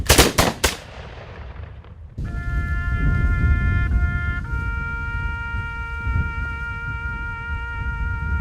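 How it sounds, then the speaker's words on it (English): A ceremonial rifle volley from a color guard at a World War II marker ceremony opens with three sharp, loud shots in quick succession. A sustained bugle or horn tone with steady harmonics follows, and no voices are heard. "Color guard full cock. Ready your fire line. Fire."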